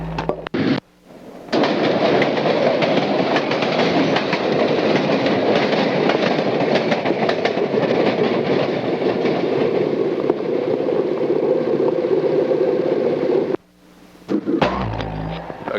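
Canadian National diesel locomotives leased by the Louisville and Nashville Railroad roll past near Rossville with a loud, steady rumble and rhythmic clatter that continues for over ten seconds before cutting off.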